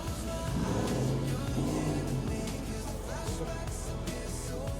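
Powerful fancy cars rumble and rev along the waterfront at Fisherman's Wharf in San Francisco at night, a steady low engine drone amid busy street ambience.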